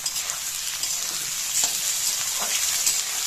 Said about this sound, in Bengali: আলুগুলোকে ভালো করে নেড়েচেড়ে একটু ভেজে নেব।